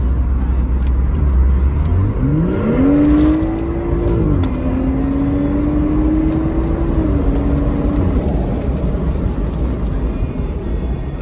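A BMW with a B58 engine accelerates hard, its engine note climbing steeply as the transmission kicks down to the lowest available gear, then holding a loud, steady high rev before easing off.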